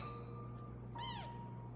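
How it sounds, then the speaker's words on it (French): A single soft cat meow, rising then falling, heard faintly over a steady low hum. "Colline, tu viens d'entendre ce miaulement."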